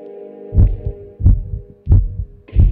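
Heartbeat effect from the horror video game The Kidnap, with four loud, close, deep thumping beats spaced evenly over a steady low hum, no talking.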